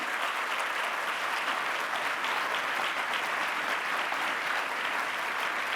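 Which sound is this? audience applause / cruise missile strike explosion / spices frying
audience applause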